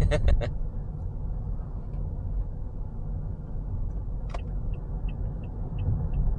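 A car travels along a southern Bali road stuck behind a truck, giving a steady low engine and road rumble with a few faint high chirps, and no talk in the mix.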